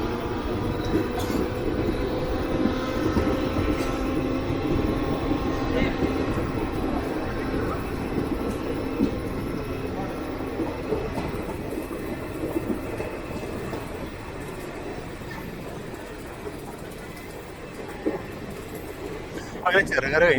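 Passenger train 20909 Kochuveli–Porbandar runs on rails between Cherukara and Angadippuram in Kerala, a continuous loud rolling rumble heard from on board, steady for the whole stretch, with a few faint clanks near the end.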